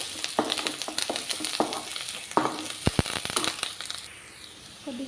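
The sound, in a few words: frying curry leaves in oil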